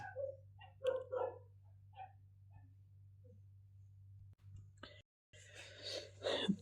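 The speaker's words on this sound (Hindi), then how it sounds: "कुत्तों की आवाज़ आ रही थी" A few dog barks, some clustered near the start and a louder burst toward the end, over a steady low hum.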